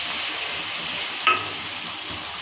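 Green chilli and tomato paste fries in hot oil with a steady, close hiss and sizzle, plus a brief clink of a spoon stirring the pan partway through.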